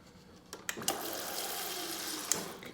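Water flows from the dispenser of a Samsung refrigerator, a steady hiss of running liquid broken by a few short clicks and knocks, close and moderately loud.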